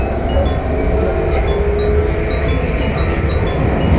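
Steady rumbling train noise with a continuous low roar, wheels on rails and faint high squeals, loud and close as if riding aboard, in Prague, Czech Republic.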